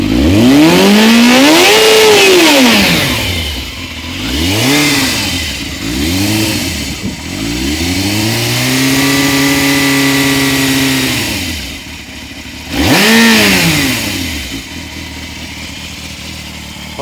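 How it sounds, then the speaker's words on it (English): A 1998 Yamaha Thundercat YZF600R 600cc motorcycle engine revs repeatedly on a cold, wet day, loud and close, with several sharp throttle blips rising and falling, then a long sustained rev, dropping back to idle between them. "But I'll just give it a rev up anyway."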